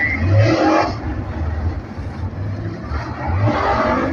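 A late model race car roars down the front straightaway at a short oval speedway during hot laps, its engine note rising and falling as it passes, loud and continuous.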